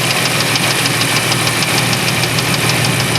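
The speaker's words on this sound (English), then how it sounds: "Making that clunking noise with the belt on or belt off, doesn't matter." A 1994 Chevrolet Astro van engine runs loudly with a rapid, regular knocking clunk repeating throughout, present with the drive belt on or off, no voices.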